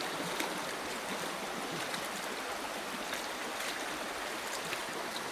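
Outdoor river stream flowing across a road, a steady broadband rush of water at moderate level with no break, no voices present.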